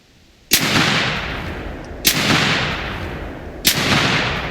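Three heavy shotgun slug blasts in theHunter Classic, spaced evenly apart, each with a sharp crack followed by a long booming decay.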